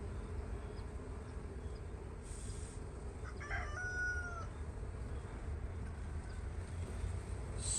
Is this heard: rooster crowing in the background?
yes